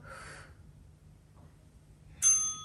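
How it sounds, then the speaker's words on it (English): A single interval timer bell rings out clearly and loudly after a quiet stretch of a Pilates circuit, its bright tone sustaining and slowly fading, preceded by a brief breathy exhale. "Keep it going until you hear that wonderful bell."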